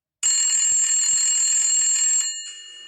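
A telephone rings in a Hindi drama series, one continuous loud electronic trill lasting about two seconds before fading to a softer tone, heard alone with no talk.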